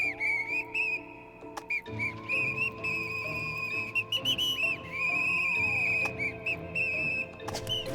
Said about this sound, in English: Oh my god, why is he using a whistle?